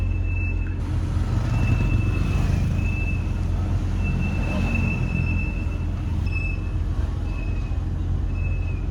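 A 1996 BMW E39 with a brake noise fault gives an intermittent high, thin squeal that comes and goes over a steady low road and engine rumble while the car is driven.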